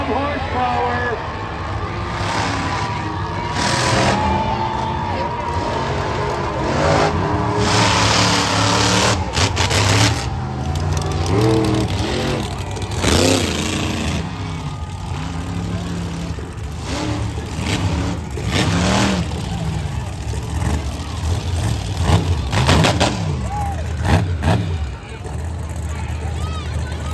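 Fire-breathing monster trucks parade into an indoor arena at a Monster X Tour show, big engines revving and roaring in repeated surges under a loud announcer's voice and crowd noise.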